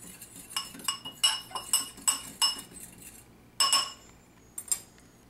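Powdered sugar, baking powder and salt are mixed in a bowl, with a series of bright metallic clinks of a utensil against the bowl in quick bursts, close up, then a short pause before a few more.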